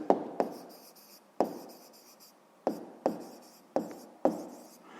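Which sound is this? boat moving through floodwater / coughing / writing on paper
writing on paper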